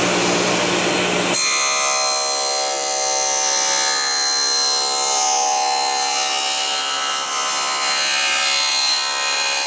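A table saw cuts through a sheet of recycled plastic, the blade's whine jumping in loud and harsh with a grinding, buzzing edge that holds steady and close throughout.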